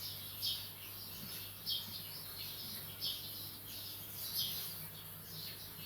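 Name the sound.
sparrows chirping in the morning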